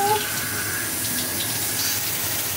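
Water from a dog-bathing sprayer tool set to a gentle trickle runs in a steady, soft hiss with a faint splashing texture, continuous and close, with no talk.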